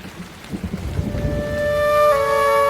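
Heavy rain pours down in a dense, steady roar, joined partway through by a sustained high tonal hum that grows louder toward the end.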